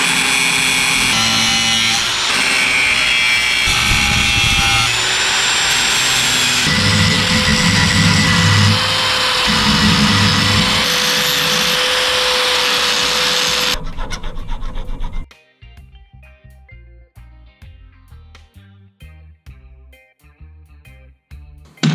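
A fat bike part is worked by hand with a file, giving rapid, loud, rhythmic rasping strokes up close for about fifteen seconds, then a quieter stretch of scattered scrapes and taps.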